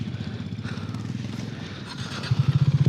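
A motorcycle rides a rough, uneven track near the KRS backwaters in Karnataka. Its engine drones steadily and close, then rises into a louder, higher revving whine near the end.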